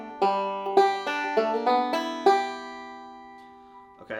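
Bluegrass banjo playing a classic G lick with a backslide and roll, about six bright plucked notes ringing close and clear in a steady picking pattern, then fading to near silence.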